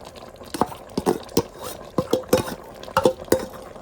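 A spoon stirs ground onion paste into chicken sukka in a pan, giving a series of close, sharp scraping and clinking strokes in uneven bursts over a faint sizzle.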